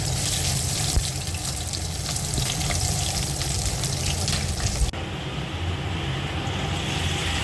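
Onions fry in a hot pan for Bengali Thakur Bari–style mutton kosha, giving off a loud, continuous sizzling hiss with a steady, dense texture throughout.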